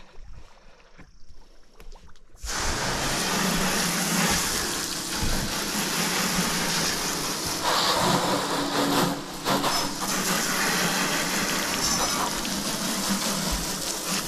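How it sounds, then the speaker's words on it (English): A pump sprays lake water over a small liveaboard cruising boat on Georgian Bay to blast bugs off, a steady loud rushing gush that starts abruptly after a quieter opening and runs continuously to the end. "We're using this is just the lake water I'm blowing all these bugs off with."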